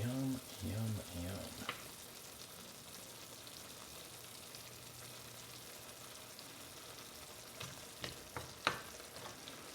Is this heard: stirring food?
yes